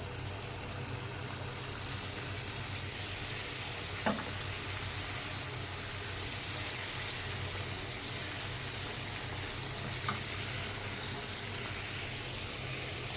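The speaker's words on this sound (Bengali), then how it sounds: "মাছের তেল ছেড়ে গেছে, এই মশলা মাছ দিয়ে দেব।" Fish sizzles and fries steadily in hot spiced oil for a Bengali fish curry, giving a constant close crackling hiss with a low background hum and a couple of faint clicks from stirring.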